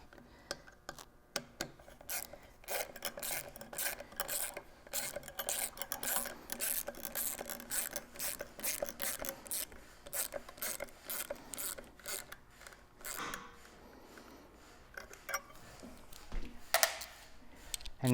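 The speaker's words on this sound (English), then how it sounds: "I'm going to start ratcheting that down" A hand ratchet with a socket tightening a nut on the cylinder head of a Toyota 1FZ-FE engine from an 80 Series Land Cruiser during a head gasket job, giving steady rapid clicking strokes close up for a long stretch.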